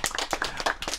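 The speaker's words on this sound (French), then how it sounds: "je voudrais qu'on applaudisse, s'il vous plaît, Madame Poyot" A short burst of audience applause at a school gathering, brisk overlapping hand claps lasting about a second at moderate loudness.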